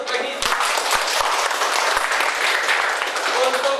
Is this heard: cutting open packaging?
no